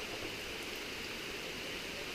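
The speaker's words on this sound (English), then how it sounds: "Still pouring rain." Heavy rain pours down along a forest trail, a soft, dense and continuous hiss of falling water that stays even throughout.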